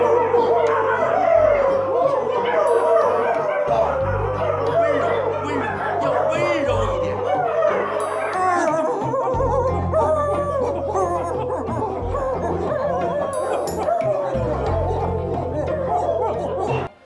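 A roomful of imperial physicians in a Qing-court drama bark in unison, mimicking a dog with a chaotic chorus of woofs, yips and howl-like cries, mixed with chuckles and chatter, loud throughout.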